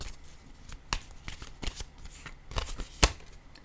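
Oracle cards shuffled for a card reading give a close, crisp run of riffling and flicking slaps in irregular bursts, with one sharper snap near the end.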